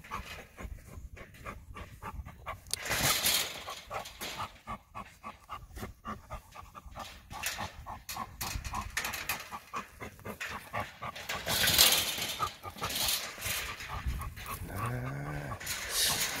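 An adult wild boar caught in a cage trap on a rural Japanese Dendropanax farm pants, snorts and grunts heavily at close range for a long stretch. It thrashes in bursts, and a whining squeal rises near the end. No one speaks.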